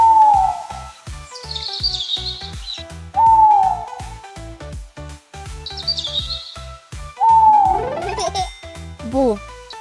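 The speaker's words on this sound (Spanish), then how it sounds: "Este es un búho." An owl hoots in repeated calls spaced a few seconds apart, clear and close, with a child-friendly musical backing running underneath throughout.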